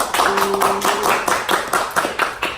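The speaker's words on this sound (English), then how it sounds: "Give it up for a round of applause, y'all." A small group in a podcast studio claps for the show's first episode, a few loose taps and claps in an uneven rhythm, close and fairly loud, with a brief voice near the start.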